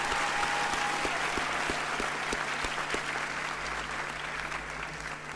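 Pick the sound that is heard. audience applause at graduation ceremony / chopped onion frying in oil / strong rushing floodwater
audience applause at graduation ceremony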